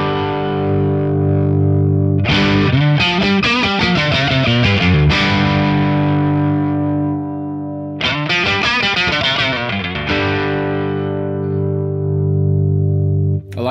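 Electric guitar run through a Thorpy FX Dane signature overdrive pedal with the low-frequency control turned fully down, playing sustained distorted chords and busy picked riffs loudly and continuously, with no talking.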